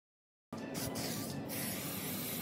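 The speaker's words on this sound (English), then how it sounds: "I put the aircraft paint remover on the valve cover." Aerosol aircraft paint remover sprays steadily onto an engine valve cover, a loud close hiss starting abruptly and continuing unbroken for about two seconds, with no talk.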